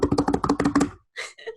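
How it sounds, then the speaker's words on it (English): Rapid keystrokes on a computer keyboard, a fast burst of about a dozen crisp clicks, then a pause and two softer, scattered taps, close and clear with no voices. "It's me typing on D&D Beyond."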